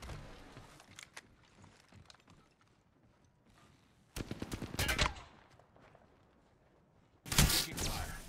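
Automatic gunfire from a video game battle, with a few sporadic shots early on and then two loud, close bursts of rapid fire.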